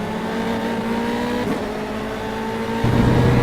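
A Formula 3 race car engine in the Automobilista racing game, a steady loud high whine with a brief dip and then a rise in tone near the end, with no talk over it.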